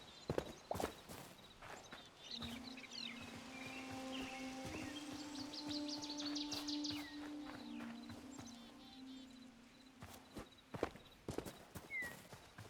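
Footsteps in the video game Hytale, a few soft steps near the start and again toward the end, with a steady tonal ambient drone and chirping bird-like calls in between.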